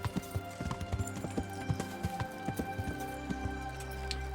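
Horse hooves clip-clopping at a steady walking rhythm in the medieval role-playing game Kingdom Come Deliverance, close and fairly loud over a low ambient hum, with no talking.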